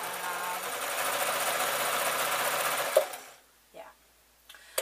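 A sewing machine stitches a painted tote bag with a steady, close mechanical whir for about three seconds, then stops; a few faint clicks and handling sounds follow in near silence.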